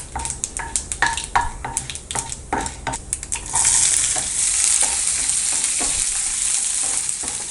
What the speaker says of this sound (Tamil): பச்சை மிளகாய், கருவேப்பிலை ஆட் பண்ணிக்கலாம்.